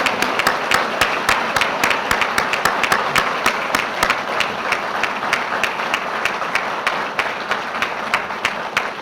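A military change-of-command ceremony audience at the 81st Training Wing applauds the commander, a steady crowd clapping with distinct sharp claps standing out over a continuous wash of hand noise.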